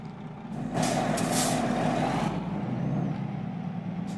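A truck's air brakes in Euro Truck Simulator 2 let out a loud sustained hiss over a steady engine rumble, easing off after a couple of seconds while the engine keeps droning.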